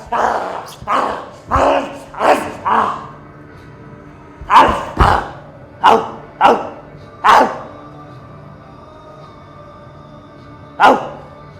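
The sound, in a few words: dog barking and lunging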